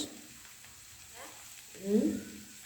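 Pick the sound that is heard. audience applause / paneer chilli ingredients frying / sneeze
paneer chilli ingredients frying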